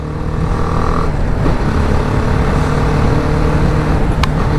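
Motorcycle riding along a road, a steady engine drone with road rumble and wind, continuous and close throughout, with no talk.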